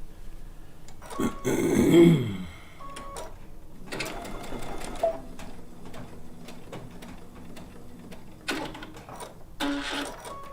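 A sewing machine stitches a seam in a quilt top built from blue and white fabric, running in several short bursts with pauses and button clicks between them, close and moderately loud.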